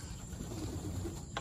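Racing pigeons coo at a loft during a race, low murmuring calls under a steady hiss, with a brief sharper sound near the end.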